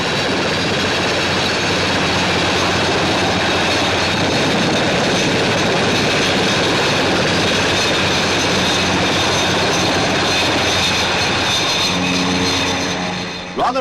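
Jet aircraft launching from the deck of a Royal Navy aircraft carrier in the 1960s, a loud, sustained roaring engine blast filling the air alone without a break.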